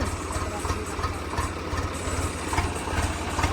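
A new tractor engine idles nearby with a steady low rumbling throb and faint vibration, holding even throughout with no talk heard.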